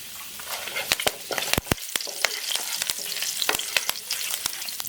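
Urad dal, dried red chillies, cumin, a pinch of hing and curry leaves crackle and sizzle in hot oil, with sharp pops and spits scattered through a steady, close frying hiss.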